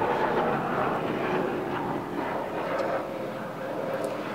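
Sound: helicopter flying overhead

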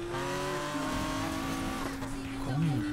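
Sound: car engine in video game Need for Speed Payback

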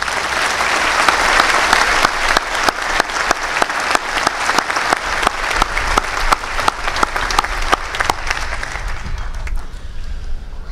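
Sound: applause for the international students at a graduation ceremony

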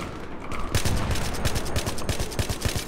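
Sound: gunfire in video game Battlefield 3

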